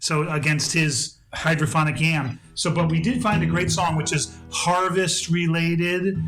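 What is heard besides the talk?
No everyday noises stand out.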